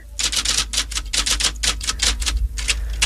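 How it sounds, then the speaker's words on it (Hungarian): An old typewriter clacks in a quick, irregular run of keystrokes, loud and close, with a low hum underneath and no talking. "És látod, egy szép régi írógépen írja."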